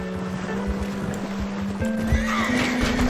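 Horse neighing in the video game Red Dead Redemption 2 Online, a fairly clear whinny late on over continuous outdoor ambience with soft hoof and movement sounds.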